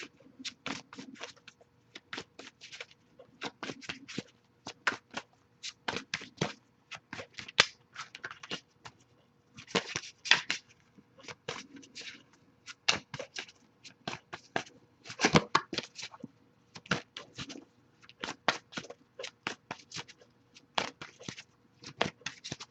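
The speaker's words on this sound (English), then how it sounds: "I'll give it a few more shuffles before we give up." Tarot cards being shuffled by hand in repeated quick riffling bursts with short pauses between them, soft and close, with no voices.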